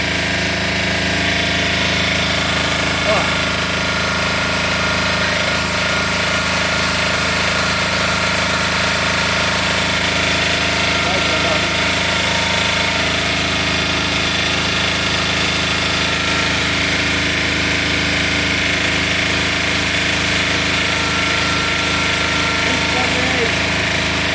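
A Hyundai DHY 12000 LE generator runs under a 2 kW load, its engine droning steadily and loudly with a constant mechanical hum for the full stretch and no change in pitch.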